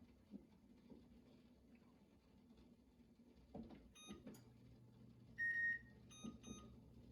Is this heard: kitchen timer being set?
yes